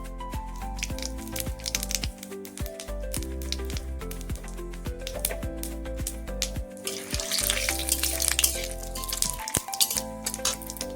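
Shahi jeera (caraway seeds) sizzle in hot oil in a Bengali duck curry, a steady crackle under music.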